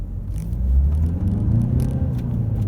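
A 2017 Ford S-Max Zetec with a 150 bhp engine cruises on a motorway, giving a steady, close low engine and road rumble with faint tyre and wind noise throughout, no talking.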